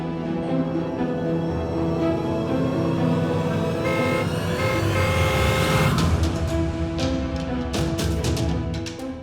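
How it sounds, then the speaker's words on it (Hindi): A car pulls up, its engine hum building and holding steady before fading out, with some rattling clicks toward the end, fairly loud and near. "ये देख, गाड़ी भी आ गई।"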